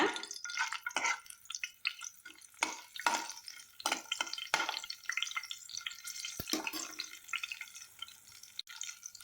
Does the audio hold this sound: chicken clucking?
no